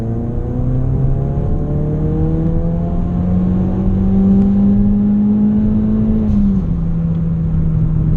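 A Ford Focus RS engine revs steadily from about 2400 RPM up toward 6500 RPM during an e-tune data log, its rising harmonic drone loud and continuous before dropping back near the end.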